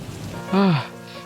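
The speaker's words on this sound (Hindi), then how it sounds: "इतने में बारिश शुरू हो जाती है।" Rain starts falling on a street in an animated scene beside a roadside cart selling spicy potato parathas, a steady close patter with a short voiced tone rising briefly in the middle.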